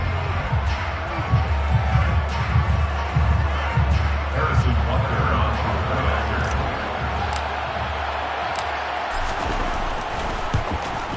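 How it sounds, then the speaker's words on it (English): Stadium crowd at a Detroit versus Minnesota football game shouts as a replay is shown, a dense, steady roar of many voices filling the clip with a commentator talking over it. "Plenty of shouts from this crowd as they watch the replay."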